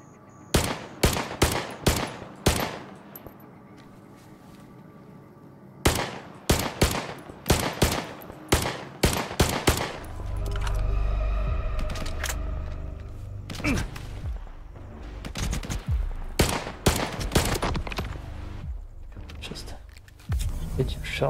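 Gunfire in the video game Stalker 2: loud, close single shots and quick bursts in uneven clusters, with pauses between volleys, a heavy low rumble in the middle stretch and faint whispered talk underneath.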